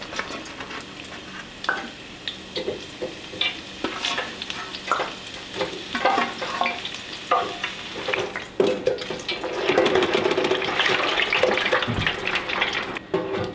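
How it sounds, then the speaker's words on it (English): Chilled fries deep-fry in oil at 350 degrees, giving a close, continuous bubbling sizzle with scattered taps and clinks, growing louder and denser toward the end; nobody speaks. "Now we'll finish them off in the fryer at about 350 degrees until they're nice and golden brown"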